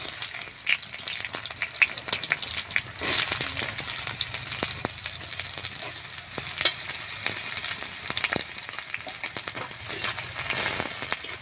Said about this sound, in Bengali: পেঁয়াজটাকে ভালোভাবে লাল করে ভেজে নেব।